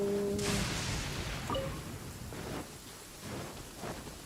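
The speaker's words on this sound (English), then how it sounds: "It is raining." Rain falling in the open world of Genshin Impact, a soft steady hiss with faint low rumbles and a few gentle swells, briefly joined by short game interface tones near the start.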